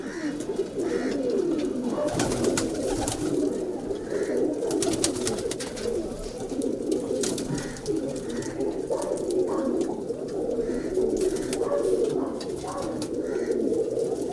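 Kalpare high-flyer pigeons coo repeatedly in a loft, a dense, continuous chorus of soft throaty calls with steady background rustle and no talking.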